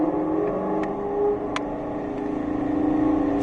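A Ford Shelby GT500 accelerates on a race track, heard from inside as a steady loud engine drone that swells slightly toward the end.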